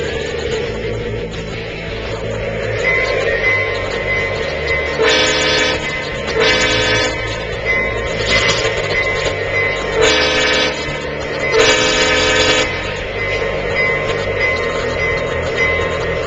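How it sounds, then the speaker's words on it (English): A Lionel Legacy 2120 model train engine runs steadily on a home layout, sounding its horn in several loud, repeated blasts over a continuous rolling rumble. "This is of course my 2120 Lionel Legacy engine."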